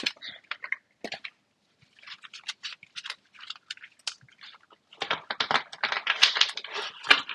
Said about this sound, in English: Right, let's shuffle them up.